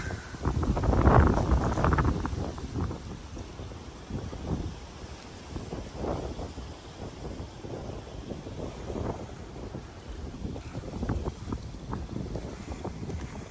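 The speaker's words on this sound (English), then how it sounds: "Sorry, that wind is blowing hard." Strong wind gusts buffet the microphone on a forest trail at Cowles Bog in Indiana Dunes National Park, with a loud opening burst and then repeated rumbling surges.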